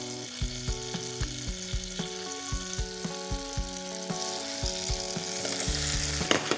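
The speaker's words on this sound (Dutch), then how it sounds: "die champignons kort en krachtig aan te bakken in een klontje boter" Steady sizzling of mushrooms frying in butter, with regular clattering knocks of stirring in the pan close by.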